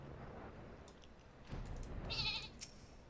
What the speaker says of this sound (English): I love this sheep. It's an adorable little sheep.